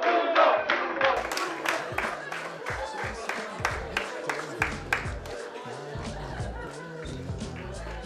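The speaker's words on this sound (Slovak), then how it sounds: "Poprosím potlesk." An audience at a school graduation program claps and cheers, with scattered sharp handclaps and voices rising and falling over several seconds.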